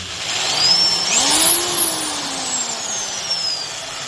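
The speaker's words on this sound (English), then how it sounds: "Definitely sounds like it has a pretty stout motor in it, although the gears don't sound super smooth." A Harbor Freight 1/2-inch corded drill with a stout motor and slightly rough gears spins up to a loud, high whine. The pitch rises and then slowly winds down, close and alone.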